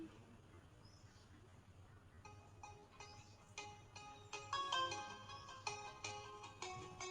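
A phone ringtone for an incoming call plays as a repeating melodic tone pattern that grows louder and more insistent over several seconds, over a quiet background.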